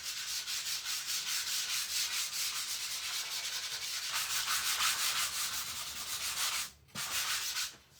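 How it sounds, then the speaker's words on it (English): Sandpaper rubs in quick, steady back-and-forth strokes over a wooden cutting board decorated with image transfers, a loud, close, rhythmic scratching that briefly pauses near the end. "I'm gonna go sand back over this."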